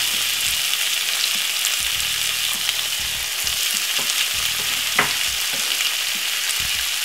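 Garlic and chopped seasoning fry in a pan for a homemade English beef lasagna, giving a steady, dense sizzle that holds evenly throughout, with a few faint clicks and stirring knocks and no voices.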